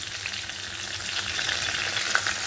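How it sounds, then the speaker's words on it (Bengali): Potato and paneer chunks fry in hot oil with a steady, close sizzle and crackle, fairly soft, with no voices. "আলুটি একদম লাল করে ভেজে নিয়েছি"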